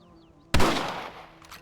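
A single sharp rifle shot in Red Dead Redemption cracks loudly after a quiet moment, then its echo fades out.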